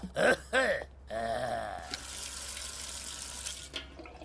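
Water runs from a tap in a steady hiss for a few seconds after a couple of brief throaty sounds at the start.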